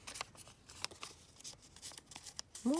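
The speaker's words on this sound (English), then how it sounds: "Just tearing the paper now." Paper is torn by hand during a mixed-media altered-flowers craft project, heard as a series of short, close ripping and rustling bursts over a few seconds, ending on a brief tonal squeak.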